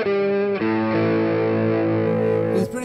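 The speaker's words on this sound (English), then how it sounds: "if I want a warmer sound, I lower the bridge pickup." An electric Strat-style guitar with a two-volume Strat Plus wiring and GFS Brighton Rock pickups plays a few sustained, distorted chords with the bridge pickup lowered for a warmer tone, loud and close.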